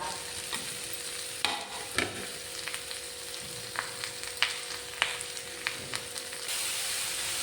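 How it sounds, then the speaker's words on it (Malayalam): Finely grated carrot sautéing in a pan with butter over low to medium flame, a soft continuous sizzle broken by repeated sharp spoon scrapes and taps against the pan, close and alone. "ഒരൊന്നര കപ്പ് ക്യാരറ്റ് തീരെ പൊടിയായിട്ട് ഗ്രേറ്റ് ചെയ്തെടുത്തതാണ് അതുകൂടി ചേർത്ത് കൊടുക്കാം"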